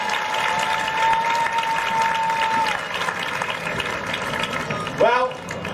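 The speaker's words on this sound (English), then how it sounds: "One more round of applause for Dr. Amir Whitaker." Applause from a crowd at a 2019 graduation ceremony, a dense clapping wash lasting several seconds, with an announcer's voice ringing out briefly over it.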